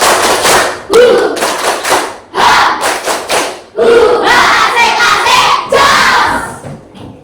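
Classroom of students performing a rhythmic spirit clap, loud bursts of patterned clapping in groups with chanted shouts between them, close and energetic.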